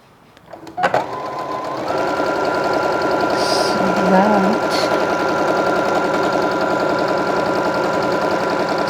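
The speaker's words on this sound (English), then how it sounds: "And then you just put the pressure walking foot down, and then you can just start sewing." A home sewing machine with its walking foot lowered runs a basic straight stitch, whirring steadily and close after a brief click at the start, alone without talk.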